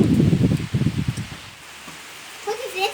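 Wind rustles through rain-soaked sorghum stalks in a field after rain, a close, noisy swishing that fades into a quieter hiss, with someone talking over part of it.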